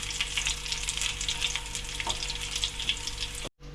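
Green chili dropped into hot oil sizzles and crackles steadily at close range, a bright, busy frying hiss that cuts off abruptly near the end.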